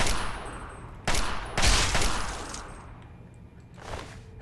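Gunfire in Fallout 3 cracks out in a few sharp, loud shots spaced unevenly over a few seconds, each with a ringing, fading tail, with no talking.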